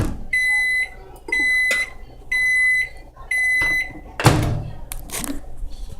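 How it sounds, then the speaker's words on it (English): A microwave oven heats slime, humming in steady stretches broken by repeated high electronic beeps, then a louder clatter like its door opening near the end. "it's in the microwave right now."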